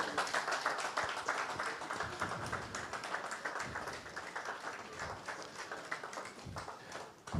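Sustained applause from a conference audience, a dense, steady patter of many hands clapping throughout with no pauses.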